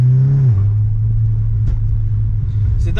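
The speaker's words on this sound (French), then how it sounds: "il y a le même bruit qu'un dump valve en fait" A Volkswagen Golf 6 R with a stage 2 tune, heard from inside: a loud, steady engine drone with a pitch drop early on, then short airy bursts near the end like a dump-valve release.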